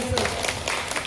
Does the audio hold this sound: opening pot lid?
no